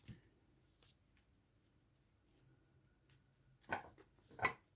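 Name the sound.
scissors cutting a ribbon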